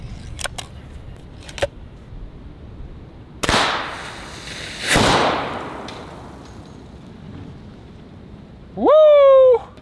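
.50 caliber primer fired to launch a pellet, with small clicks followed by two sharp, loud bangs in quick succession, then a brief rising tonal whine at the end.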